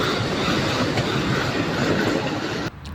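A train rumbles loudly past a closed railway crossing gate with a steady clatter of wheels, then cuts off abruptly near the end.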